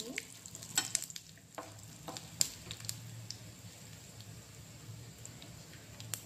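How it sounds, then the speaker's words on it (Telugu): Red chilli, mustard seeds and cumin crackling in hot oil: a faint steady sizzle with scattered sharp pops and brief stirring scrapes, no voices. "రెడ్ చిల్లీ ఆవాలు జీలకర్ర వేసేస్తున్నాను. ఇది కూడా బాగా యాగనివ్వాలి."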